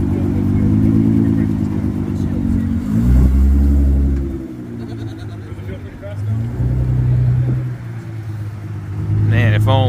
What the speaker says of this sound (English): And we have another GTR rolling up.